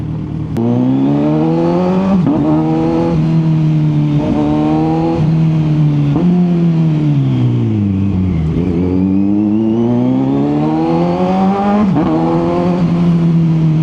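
A loud 2025 Kawasaki Z900 SE inline-four motorcycle engine revs repeatedly, pitch climbing and dropping in smooth waves, close up and continuous with no talking.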